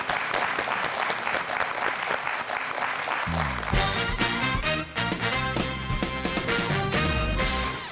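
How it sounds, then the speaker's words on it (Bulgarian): A studio audience on a Bulgarian TV quiz show applauds steadily, and after a few seconds loud show music swells in and plays under the clapping to the end. "Изпращаме те с аплодисменти."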